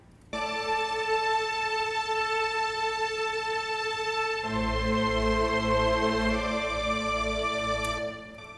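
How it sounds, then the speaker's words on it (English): Sustained layered synth strings hold a bright chord, then shift to a fuller, deeper chord with a swelling low end, steady and loud with no talking. "So the strings sound like this."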